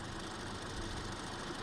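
A 1951 Army Jeep engine idling after years without running, a steady dense rumbling drone that stays even and continuous, with no voices.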